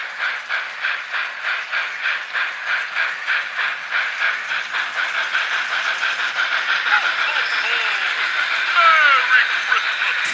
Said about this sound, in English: Beautiful little train too.